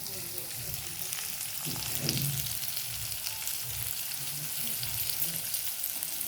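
Vegetables sautéing in a pan with salt added, a steady broadband sizzle throughout with occasional stirring scrapes, close and moderately loud, no voices.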